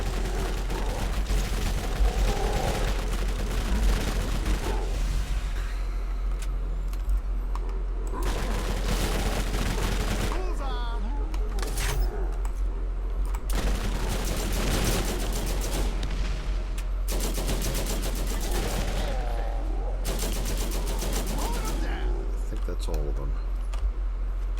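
Gunfire in Borderlands GOTY Enhanced, repeated bursts of shots and some booms over a steady low hum, with someone talking throughout.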